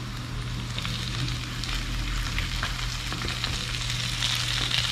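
Tomatoes frying in a pan with ginger, onion and garlic, a steady close sizzle with faint stirring scrapes running throughout, no voices.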